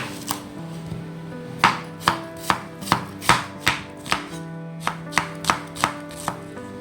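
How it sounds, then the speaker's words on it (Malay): Knife slicing onions on a cutting board for French onion soup, a steady run of about fifteen crisp, close chops in an even rhythm, with a short gap near the start and a faint low hum underneath. "pertama kita kena hiris bawang dulu"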